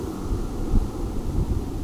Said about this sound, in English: So the wind's blowing pretty hard through my bungalow sometimes,